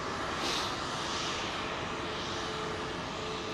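A Malaysia Airlines airliner at London Heathrow, heard as a steady, loud roar of jet engines that holds throughout with no talk.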